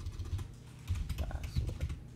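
Quick bursts of keystrokes on a computer keyboard as a password is entered, close and clear, two or three short runs of clicks with no talking.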